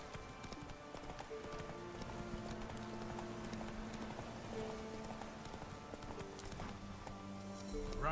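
Roach the horse galloping in The Witcher video game, rapid rhythmic clip-clop hoofbeats running continuously beneath layered game music and ambience, with a brief swell near the end.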